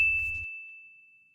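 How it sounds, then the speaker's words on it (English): A single bright phone notification ding for a trading buy alert rings out clearly and alone, then its pure tone slowly fades over more than a second. "you're going to get an alert to your phone"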